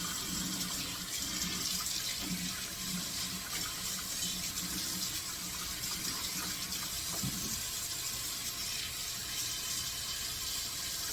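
Tap water runs steadily into a kitchen sink, filling it with sudsy water; a continuous broadband rush with faint clinks of dishes underneath, moderately close.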